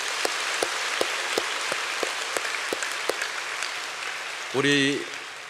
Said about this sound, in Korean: 박수로 한번 격려했으면 좋겠습니다